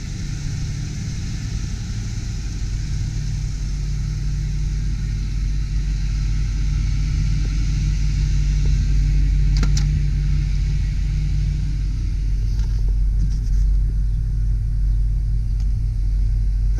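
A 1989 Ford F-250 XLT Lariat 4x4 with a 5.0-liter engine and 5-speed manual runs steadily, a deep, continuous rumbling idle heard up close, with a few light clicks toward the end.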